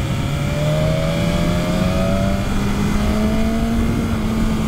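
A 2019 BMW S1000RR superbike is ridden at a steady pace, its engine droning loud and continuous close by, with the pitch rising gradually as it pulls.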